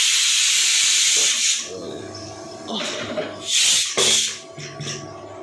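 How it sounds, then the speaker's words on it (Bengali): A pressure cooker boiling dal vents steam in several sharp hissing bursts of varying length, separated by quieter bubbling gaps. "আর একটা সিটি উঠলে ডালটা সিদ্ধ হয়ে গেলে"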